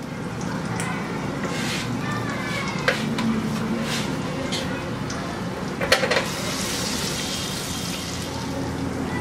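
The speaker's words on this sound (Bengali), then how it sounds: "আমি কিন্তু মিডিয়াম আর হাই এর মাঝামাঝি ভাজতেছি" Grated ginger and garlic fry in hot oil over medium-high heat with a steady, moderate sizzle, broken by a couple of sharp clicks from a utensil. A voice may be faintly present, and the sizzle stays continuous.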